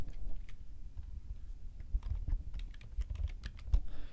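Typing on a computer keyboard while editing a link in the WordPress editor, a quick irregular run of light clicking keystrokes up close over a faint low room hum, with no talking.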